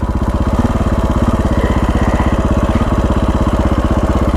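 A KTM 525 dual-sport motorcycle with knobby tires is ridden under steady load, its single-cylinder engine giving a loud, close, continuous thumping drone with an even pulse throughout.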